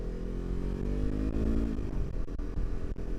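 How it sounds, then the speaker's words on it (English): A Yamaha R3 motorcycle engine drones loudly and steadily up close, its pitch dipping briefly midway before holding on. "Can't hear my music with the engine being too loud."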